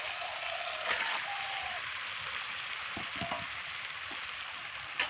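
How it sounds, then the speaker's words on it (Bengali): Marinated chicken for a chui jhal chicken curry sizzles in a hot pan, a constant frying hiss with a few soft clinks and spoon knocks near the end; no one speaks. "এই যে ম্যারিনেট করা মাংসটাকে দিয়ে দিচ্ছি"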